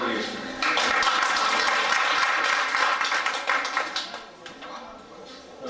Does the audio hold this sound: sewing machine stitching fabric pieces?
no